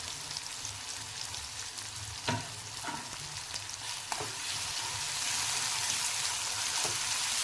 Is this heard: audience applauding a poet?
no